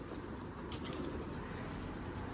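Several pigeons flap their wings inside a cardboard box, a steady, dense fluttering rustle that keeps up for the whole short stretch, close by and fairly soft, with no talk.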